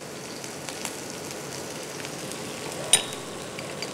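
Onions and green chillies frying in a pan for egg masala fry, a steady soft sizzle with faint crackles and one brief clatter near the end, no talking.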